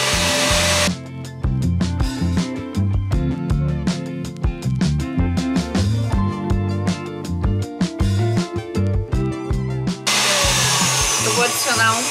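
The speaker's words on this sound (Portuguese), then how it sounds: "essa minha batedeira eu tô precisando dar uma regulada nela" An electric stand mixer in need of adjustment runs loudly, starting abruptly and whirring for about nine seconds with a throbbing, uneven mechanical rattle before cutting off.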